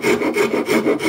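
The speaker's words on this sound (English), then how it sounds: "I'll sort of rasp that down and see how it goes." A half round Swedish rasp roughs a glued hornbeam wood patch on a stick bow, giving loud, close, rhythmic rasping strokes, about four to five passes in quick succession with no talk.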